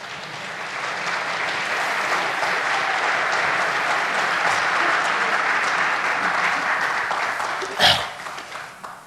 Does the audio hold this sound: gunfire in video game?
no